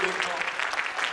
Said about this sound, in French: si nous pouvons battre nos mains pour le Seigneur, juste pour l'applaudir